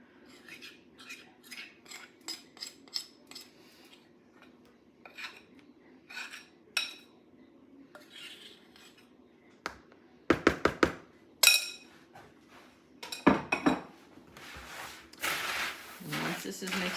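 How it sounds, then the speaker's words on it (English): A spoon mixes melted chocolate into cereal in a bowl for star crunch cookies, a series of irregular scraping, crunching and clinking strokes, some sharp and close, separated by quieter gaps. "I'm going to go ahead and dump this over my cereal and mix it in"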